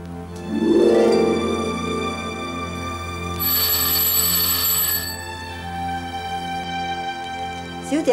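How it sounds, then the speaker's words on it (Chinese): Old-fashioned telephone bell ringing in a 1930s-set Hong Kong drama scene, a sustained bright ring in one long burst, moderately loud over quiet background music. "小姐啊，你个电话啊？"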